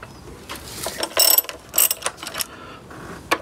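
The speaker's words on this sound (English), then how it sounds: "Undo that caliper bolt." A ratchet undoing a front brake caliper bolt on a Honda VFR1200X Crosstourer, several quick bursts of close, crisp metallic clicking in uneven strokes.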